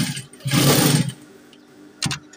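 Sewing machine stitching a ruffle turban, running in one loud, steady burst of about half a second, then a shorter burst after a pause, with no talk over it.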